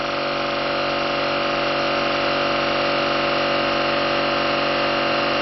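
A generator engine running steadily at 2,870 RPM with no load connected gives a loud, even drone that holds unchanged throughout, with no talking.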